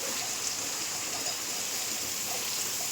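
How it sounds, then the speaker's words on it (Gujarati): Heavy rain falling in a village, a dense, steady wash of hiss and patter with no let-up, close and fairly loud. "વરસાદ ફૂલ શરૂ છે અને હજી બંધ જ નથી રહ્યો"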